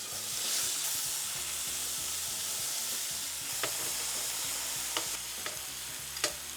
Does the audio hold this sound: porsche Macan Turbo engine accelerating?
no